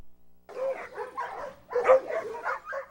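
Several pet dogs bark, yip and whimper in quick overlapping bursts, close and moderately loud, with a brief pause before a louder cluster of yelps.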